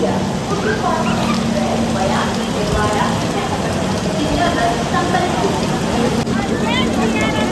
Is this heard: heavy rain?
yes